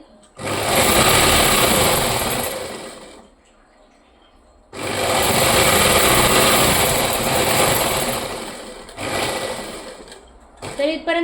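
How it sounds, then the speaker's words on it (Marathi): A sewing machine stitches cloth for a rabbit-shaped cap in two long, loud, close bursts of rapid whirring, separated by a pause, followed by a shorter run and a brief tail of handling noise at the end. "इथून ह्या कोपऱ्यापासून मी शिलाई करायला चालू करते"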